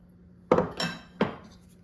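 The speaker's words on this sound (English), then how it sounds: "use a slotted spoon, and just mix the sausage in with the mixture here" A slotted spoon clinks twice against a bowl while breakfast sausage is stirred into a mixture, two distinct close knocks with a brief scrape between them.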